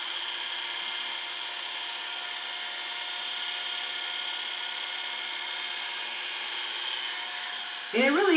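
Electric hair clippers trim hair with a steady, close buzzing drone that runs unbroken throughout, and a brief voice cuts in at the very end.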